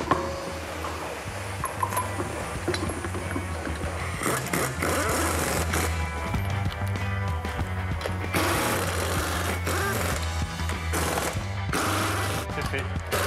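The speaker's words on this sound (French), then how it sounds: "on va mettre les boulons, on va serrer." Rapid bursts of an impact wrench tighten wheel bolts on a rim during a tyre change in a Delko car garage, loud mechanical rattling over a steady machine hum with workshop noise.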